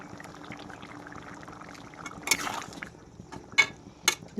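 Water goes into a pot of small potato curry with a brief splashing rush, followed by a few light metallic clinks of a utensil, close by with a quiet background.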